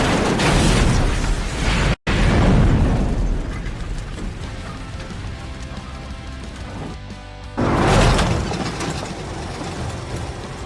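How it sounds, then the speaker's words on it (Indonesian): A loud, sustained explosive roar of a fuel drum blowing up in a film, with crackling debris, dropping out briefly, then surging again into a second heavy blast near the end. "ia menembak drum bahan bakar sehingga terjadi ledakan keras"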